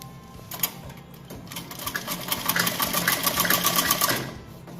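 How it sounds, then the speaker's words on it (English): Sewing machine stitching along a double-folded hem on a six-panel frilled petticoat, a fast steady run of close stitching clatter that speeds up and grows louder midway, with no talking. "We will double fold it and do stitching from here to here like this."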